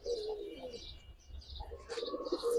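Pigeons of the colouring and giribaz breeds give soft, low, repeated coos with a few faint chirps, quiet and close, with no talk.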